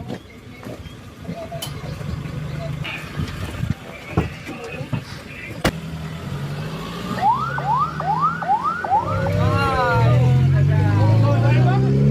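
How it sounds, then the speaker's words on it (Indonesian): An ambulance siren wails, rising and falling repeatedly in the second half, growing louder as it nears, over street noise and background chatter in Indonesia. "Ambulannya, ambulan."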